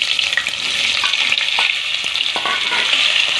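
Potatoes frying in a pan with green chilies and spices, a loud close sizzle with repeated stirring scrapes and small clicks throughout, no talk.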